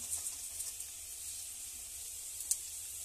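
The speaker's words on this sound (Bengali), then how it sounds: "ঘিটা গরম হোক, এর মধ্যে এবার চিনিটা দিয়ে দিচ্ছি" Sugar dropped into hot ghee on a stove for fried rice gives a quiet, steady sizzling hiss, with one brief sharp tick near the end.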